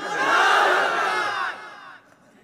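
A large crowd at an Islamic waaz religious gathering roars Allahu Akbar in unison after a takbir call, one loud sustained collective shout that fades out into a quieter tail.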